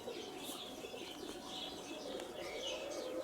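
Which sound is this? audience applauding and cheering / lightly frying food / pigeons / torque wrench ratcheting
pigeons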